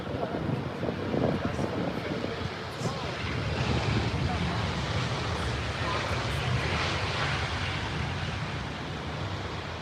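A large airliner roars past at Heathrow airport with a broad, steady rumble spread across the whole clip, mixed with wind buffeting the microphone and some voices.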